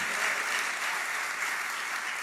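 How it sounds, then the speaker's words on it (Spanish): A church congregation claps for the Lord during a Spanish-language sermon, producing a continuous, even roar of hands that fills the room from start to finish, with no talking on top. "Aplaude el nombre del Señor"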